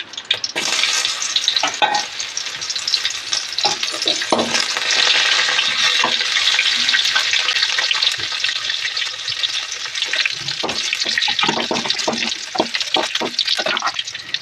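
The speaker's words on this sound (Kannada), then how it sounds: "ಇವಾಗ ಜಜ್ಜಿರೋ ಬೆಳ್ಳುಳ್ಳಿನ ಹಾಕ್ತಾ ಇದ್ದೀನಿ." Crushed garlic dropped into hot oil already holding mustard seeds, giving a loud, steady sizzle that builds and holds, with scraping stirs and small pops near the end.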